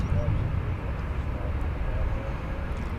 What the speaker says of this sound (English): American Eagle Flight 3383 to McAllen, Texas is on the way down runway 18 left.